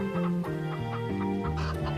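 Hens cluck in quick, rhythmic bursts close by, a chain of short clucks rising and falling in pitch with no other sounds around them.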